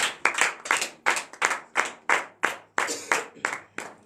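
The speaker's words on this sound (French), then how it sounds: "Donnez l'acclamation à Jésus." Congregation at a morning prayer service clapping in acclamation, loud sharp claps in a steady rhythmic beat, roughly two to three per second, close and clear without voices.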